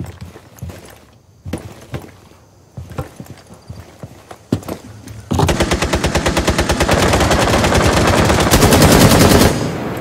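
Rapid automatic gunfire in the game Rainbow Six Siege: a few scattered, sharp shots and thuds give way to loud, sustained, tightly spaced bursts that run to the end.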